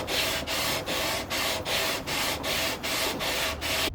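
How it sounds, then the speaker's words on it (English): Sandpaper worked back and forth along a guitar fretboard up to 500 grit, a close, steady rasping in even strokes with brief pauses roughly every 0.8 seconds, no voices. "that is sanded up to 500 grit"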